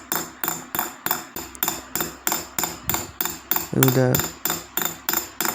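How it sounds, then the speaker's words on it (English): Small hammer tapping metal toward gemstones during stone setting in jewelry work, a steady run of sharp, evenly spaced clinking strikes close up, with a brief voice partway through. "The point will not touch the stones when I hammer metal towards the stones."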